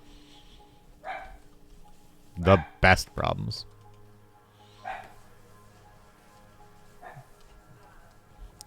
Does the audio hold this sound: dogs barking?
yes